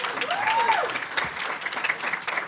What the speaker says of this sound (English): Let's give these future doctors a round of applause.